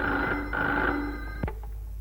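A telephone rings close by, a short bright electronic ring that cuts off abruptly.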